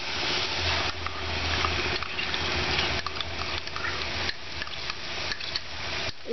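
Poppy seed paste is stirred into fried onions in a pan for methi malai matar, giving a steady scraping, sizzling mix with light clicks of the utensil, close and continuous.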